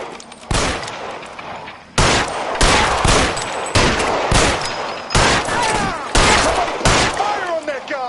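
Repeated bursts of gunfire in the video game L.A. Noire, loud broadband volleys of several shots each, arriving in rapid clusters across the whole stretch with sharp onsets and ringing tails.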